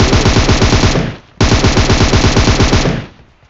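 Automatic gunfire in the mobile battle royale game PUBG Mobile: two loud, close, rapid machine-gun bursts separated by a brief pause, each fading out at the end.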